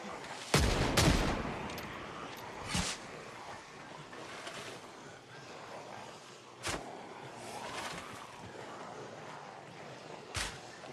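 Gunfire in the zombie survival game Project Zomboid, with a few loud separate shots spaced several seconds apart over a low ambient wash.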